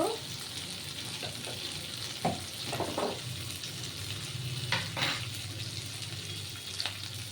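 Green chillies and capsicum sizzling in a hot pan, a continuous frying hiss broken by several scraping stirs and soft knocks of a spatula, close and moderately loud.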